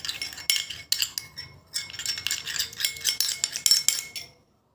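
A spoon stirs a face pack mixed with a few drops of coconut oil in a small bowl, giving repeated close clinks and scrapes in an uneven rhythm before stopping.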